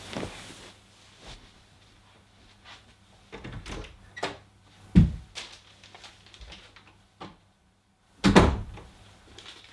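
Door sounds from the video game Deadly Premonition on Xbox 360: several separate wooden thuds and knocks spaced out over quiet background, one heavy thump near the end.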